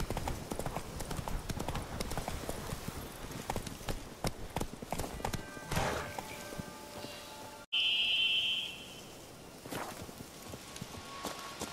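Horse hooves clip-clop in a steady trotting rhythm across the ground in The Witcher 3 video game, up close, with faint rain patter and a brief chime-like tone partway through.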